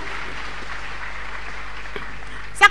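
Congregation clapping hands at a Sunday church service, a steady wash of applause at even loudness across the whole stretch, with a brief louder sound at the very end.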